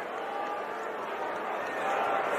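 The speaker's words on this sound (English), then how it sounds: "You can hear the crowd just getting ready for the possibility of." College football stadium crowd at a Purdue–Iowa game, a steady broad roar of many voices building slightly toward the end, heard from a distance under the broadcast.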